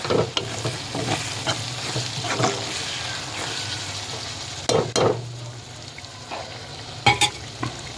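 Onions and prawn masala sautéing in oil for prawn thokku, a loud, close, steady sizzle punctuated by irregular scraping strokes and clinks of a spoon stirring against the pan.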